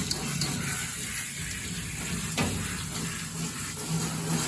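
Running water rinsing a dog's underside during a bath at home, a steady close hiss of flowing water with a few faint splashes and knocks throughout.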